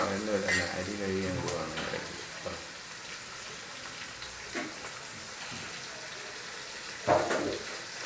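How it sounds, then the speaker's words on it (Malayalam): Onions sizzle quietly in a pan with a soft, crackling hiss, a voice briefly heard at the start and a few light utensil clinks. "ഉള്ളി നന്നായിട്ട് വരുന്നുണ്ട്, വഴണ്ടി വരുന്നുണ്ട്"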